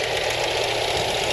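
A post-war Willys Jeep 2.2 litre engine idles steadily nearby, a dense continuous mechanical rumble with a faint knocking texture and no speech.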